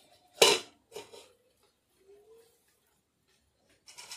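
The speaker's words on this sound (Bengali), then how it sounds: "বন্ধুরা, এবার আমি ঢাকাটা খুলে নিচ্ছি।" A metal lid is lifted off a pan of cooking egg paratha with a sharp clank near the start, then a lighter knock and faint scraping, followed by brief quiet rustles. The sounds are close and isolated, with no talk.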